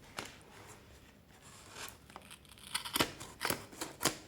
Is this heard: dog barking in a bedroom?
no